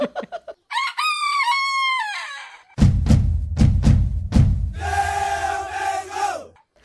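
A chicken and rooster sound effect: a few sharp clucks, a rooster's long crow, a loud burst of rapid clucking, then a second drawn-out cock-a-doodle-doo, all close and clear with no talking.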